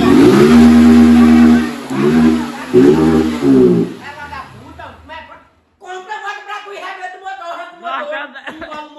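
Motorcycle engine in poor condition revving hard in repeated loud bursts up close, then dropping back to a rough, uneven idle while people talk over it.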